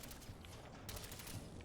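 Gunfire from the video game Fallout 4: a rapid burst of shots, fairly faint and distant-sounding, with a second volley partway through.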